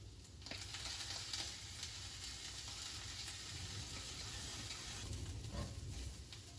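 Charred corn and garlic sizzle steadily in a hot pan, a continuous soft frying hiss with occasional light stirring scrapes, close but fairly quiet.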